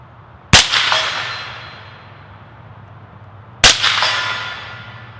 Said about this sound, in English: you should be able to hear when I hit the steel up here in the woods.